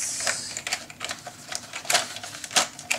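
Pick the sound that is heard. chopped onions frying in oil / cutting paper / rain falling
cutting paper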